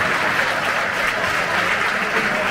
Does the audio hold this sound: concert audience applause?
yes